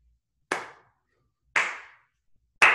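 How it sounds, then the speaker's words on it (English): Three sharp, single hand claps, close and dry, spaced about a second apart with silence between, during a music and movement dance class for ages 13 to 21. "Can you clap with me?"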